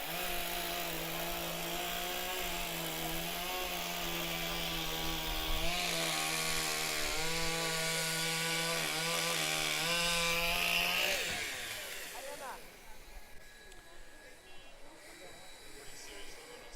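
A hot saw, a modified high-powered chainsaw, cuts through wood at a STIHL Timbersports professional championship in New Zealand. It roars loudly and steadily for about eleven seconds, then cuts out, leaving crowd noise and talk.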